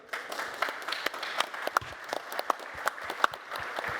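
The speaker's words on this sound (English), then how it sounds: "If we can get them another round of applause." Scattered applause from a small audience at the Umbraco Codegarden 2022 conference, distinct individual claps popping irregularly over a soft, fairly quiet background.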